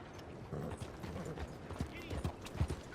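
Horse hooves clip-clop in an uneven walking rhythm in Red Dead Redemption 2, with a muffled voice and faint background ambience mixed in.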